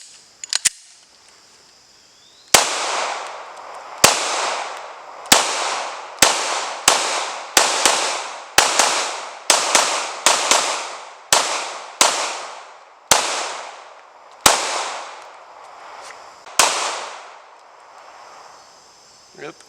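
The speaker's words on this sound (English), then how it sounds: "So let's load them up and take some shots." A Glock pistol loaded from Korean-made KCI magazines fires roughly fifteen sharp, loud shots at an uneven pace, each followed by a ringing decay, with a few short pauses between groups.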